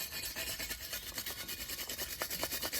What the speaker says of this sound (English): Now we're just going to give everything a good wire brush.